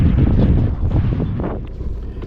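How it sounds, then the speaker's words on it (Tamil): Strong wind at a mountain viewpoint on a gap road near Munnar buffets the microphone in low, rumbling gusts that ease off slightly toward the end, with no talking. "அப்படியே நல்லா காற்றடிக்குதுங்களா, சத்தம் இருக்குது பாருங்கள், காற்று சத்தம்."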